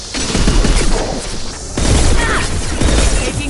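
Dense bursts of gunfire and booming impacts in a Mass Effect 2 firefight, the shots clustered in two heavy volleys with brief mechanical clatter between them.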